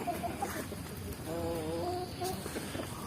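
Free-range village chickens (ayam kampung) in an oil palm plantation, clucking and calling intermittently at close to middle distance over faint outdoor background noise.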